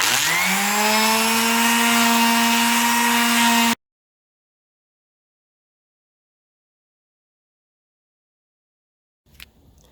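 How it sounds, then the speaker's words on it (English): Power sanding of an epoxy repair on a ski base, a steady loud whine with strong tonal hum running for almost four seconds before cutting off abruptly, followed by long silence and a faint brief rustle at the end. "So I'm going to sand it down a little bit more"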